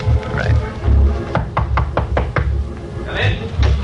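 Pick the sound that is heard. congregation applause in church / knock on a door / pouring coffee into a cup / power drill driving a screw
knock on a door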